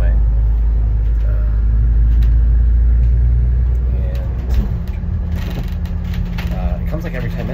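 Number 38 bus at Auckland Airport rumbling past the terminals, a loud low engine drone that gradually fades and eases off, with clattering mechanical noises and scattered background sounds.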